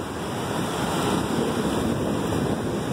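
Small waves wash continuously onto the beach at Costa da Caparica, Portugal, a steady broadband roar with wind buffeting the microphone and no voices.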